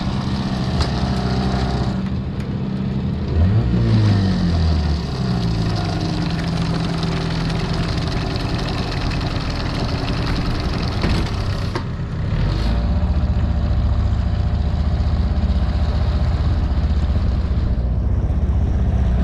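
An outboard boat motor on a river drones steadily and loudly throughout, with wind buffeting the microphone and a shift in engine pitch partway through.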